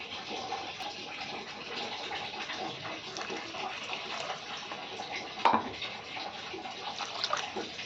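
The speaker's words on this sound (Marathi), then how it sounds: "यामध्ये पाणी घालून घेऊया" Steady rushing water runs throughout, like a stream being poured into a pan of butter paneer, with a brief clatter partway through.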